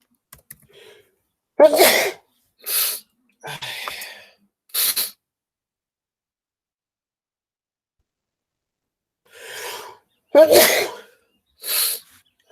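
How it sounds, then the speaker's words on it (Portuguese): Several sharp sneezes, close and loud, in two bursts separated by a long quiet gap; a few short breaths between. "Deixa eu desligar o microfone para vocês não ficarem escutando eu espirrar."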